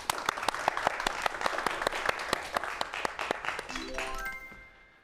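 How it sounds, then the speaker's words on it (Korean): Audience applause at a lecture event, a burst of dense clapping close by that fades out at the end as a musical tone rises. "박수 좀 부탁드릴게요"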